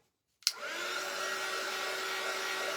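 A hair dryer switches on with a sharp click and then blows steadily and loudly, drying paint on a vintage daisy shelf sitter.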